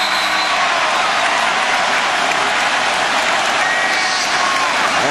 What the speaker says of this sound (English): And this crowd is erupted